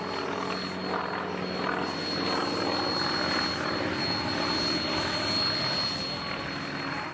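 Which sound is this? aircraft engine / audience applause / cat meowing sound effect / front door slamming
aircraft engine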